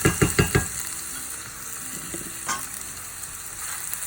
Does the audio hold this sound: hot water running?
no